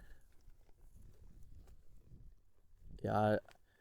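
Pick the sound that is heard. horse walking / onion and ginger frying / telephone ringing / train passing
horse walking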